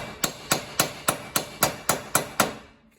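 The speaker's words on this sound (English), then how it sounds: "I am just gonna take my hammer, just lightly tap right here" Eight sharp metallic hammer taps on a wheel bearing of a 2001-2006 GMC Denali in a steady rhythm, close and moderately loud, each ringing briefly before the next.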